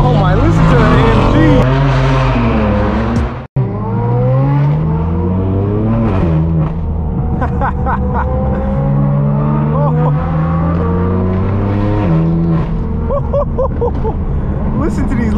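Mercedes-AMG exhaust revving at a car meet, with the engine note rising and falling in repeated bursts close by while people talk over it throughout.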